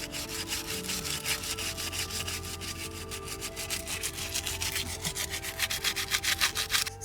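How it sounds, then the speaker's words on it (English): Coarse sandpaper rubbing steadily back and forth along a wooden tree branch, a close, rhythmic rasping of quick even strokes that grows a little stronger toward the end, with no talk. "So now we're on to the sandpaper part."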